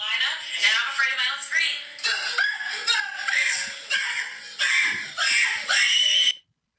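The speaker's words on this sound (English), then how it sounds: "Let me hear these screams" A crowd screams and shrieks in loud, sustained bursts, some high-pitched and laughing, before cutting off abruptly into silence.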